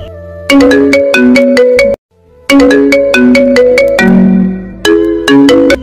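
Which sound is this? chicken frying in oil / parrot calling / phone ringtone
phone ringtone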